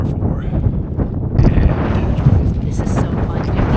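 Strong wind buffets the microphone on a scree hiking ridge in Alaska, a loud, constant low rumble and roar that fills the whole stretch.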